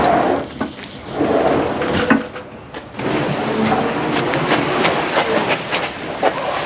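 A sliding drawer in a work truck's toolbox rolls along its track with rattling, clattering runs and clicks, loud and close, continuing through most of the stretch.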